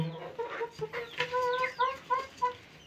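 Hens clucking in a backyard poultry setup where the birds are sick, a series of short, close clucks and calls repeating irregularly with no talk.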